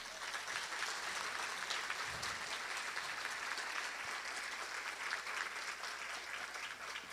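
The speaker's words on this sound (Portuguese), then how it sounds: "Pedir para uma salva de palmas para elas." Audience applause for a municipal strategic planning team at a city hall 100-days-of-administration event, steady dense clapping from a large room that holds evenly throughout without talk.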